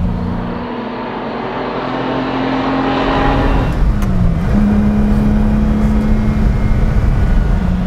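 A black Lamborghini Miura SV on the road, its engine droning loudly and steadily from inside the cabin, with the pitch rising through a rev and then settling into a sustained cruise.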